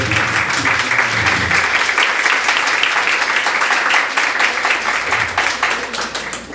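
Loud, sustained applause from a large crowd at an author event at the Tecnológico Nacional de México, a dense wash of clapping that holds steady throughout and eases slightly at the end.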